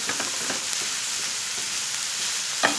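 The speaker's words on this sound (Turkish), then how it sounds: "Kıymalar yeterince kavruldu. Yani kıyma ve soğan." Minced meat and onion frying in a pan for a zucchini dish, an even, continuous sizzle with soft scraping as the mixture is stirred, close and unbroken.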